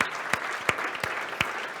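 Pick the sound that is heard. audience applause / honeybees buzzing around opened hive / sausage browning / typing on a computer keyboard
audience applause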